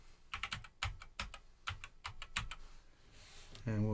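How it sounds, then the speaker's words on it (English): Rapid bursts of keystrokes on a computer keyboard, clicking in short uneven clusters close by, with a low tonal sound entering at the very end. "Let's just type in Michael."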